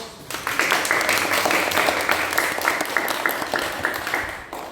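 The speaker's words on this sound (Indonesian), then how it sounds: "Kita beri aplaus." A classroom group claps in steady applause for several seconds, moderately loud and close, with dense overlapping hand claps.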